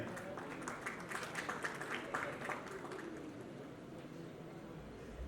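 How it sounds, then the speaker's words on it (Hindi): Scattered clapping from a crowd at a launch event, steady and moderately loud with some chatter and background noise mixed in. "जोरदार तालियां हो जाए भाई के लिए यार।"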